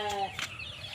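Brief, close clucking and cheeping from a brood of about thirty native chicken chicks in a sheltered farm coop, a couple of quick calls over low background noise.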